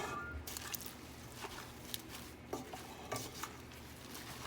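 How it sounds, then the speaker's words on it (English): A utensil stirs pasta with melting cheese and pasta water in a pan, giving faint soft squishing and scattered clinks of metal against the pan, quiet and close. "Then I'm going to just stir that together."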